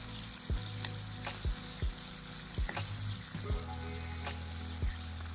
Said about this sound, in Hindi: चंद सेकंड से इसे फ्राई करना है।